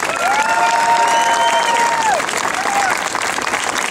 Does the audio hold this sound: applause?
yes